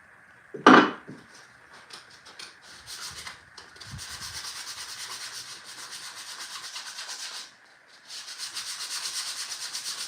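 Hand sanding of a wooden gnome house, a steady dry rubbing scrape in repeated strokes close by, with a sharp knock near the start and brief pauses between passes; no talking.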